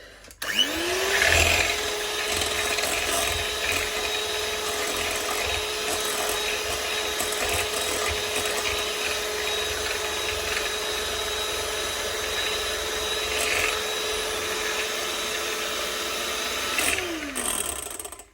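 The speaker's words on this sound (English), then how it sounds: "that's what's happening when whisking this" An electric mixer whisks egg whites for a Swiss roll sponge, winding up into a steady, loud motor whine that holds evenly for about sixteen seconds before spinning down, with no voices.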